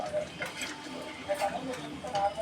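A spoon stirs goat head curry in a cooking pot, with soft scraping and clinking in an irregular rhythm, fairly quiet and close, over a low kitchen background.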